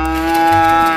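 Battery-powered toy dairy cow, black and white, walking and mooing; a loud, close electronic moo held steady for a full second with a low mechanical hum beneath.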